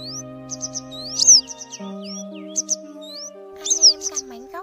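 Yellow-bellied wagtails give repeated thin, high chirps and sharp tweets in quick clusters, calling to the flock over a soft steady musical backdrop.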